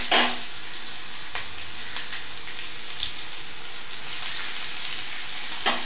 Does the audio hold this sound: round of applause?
no